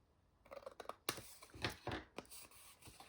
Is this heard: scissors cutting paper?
yes